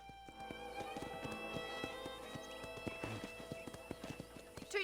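Horse hooves clip-clopping at a steady walking rhythm in the video game Red Dead Redemption, set against a layered background of music and ambience, moderately loud with no speech.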